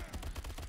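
Automatic gunfire from the World War 2: Battle Combat video game, a dense, loud, continuous burst of rapid shots lasting under a second, with no voices.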